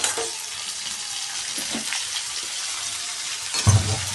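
Flat beans being stir-fried with turmeric and salt in a pan, giving a continuous soft sizzle with scraping stir noises and a louder clatter near the end, close by and with no talk.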